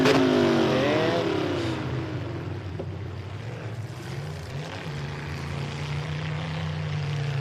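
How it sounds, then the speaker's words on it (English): Full-size pulling truck with a broken transmission or drive shaft, engine held at high RPM: a loud, steady roar that drops slightly after the first second and settles into a sustained drone, heard alone. "that sounded like a broken transmission or a broken drive shaft with the heavy RPMs and no movement."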